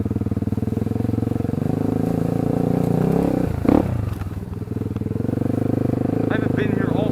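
Quad bike ridden on an enduro trail, its engine droning steadily with brief revs and a short clattering burst midway, carried under ongoing talk.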